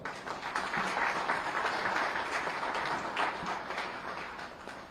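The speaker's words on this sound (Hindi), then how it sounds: "लगातार तालियों के हकदार" An audience at an investors meet in Lucknow applauds in a steady, dense wash of clapping that carries on for several seconds, heard from within the hall.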